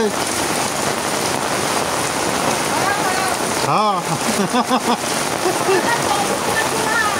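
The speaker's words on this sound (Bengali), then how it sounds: "কানে শুনতে শুনতেছি না, এত পরিমাণ বৃষ্টি।" Heavy Kalbaishakhi storm rain pours steadily in a village, a loud, dense wash across the whole stretch, with a brief spoken word and some voice sounds partway through.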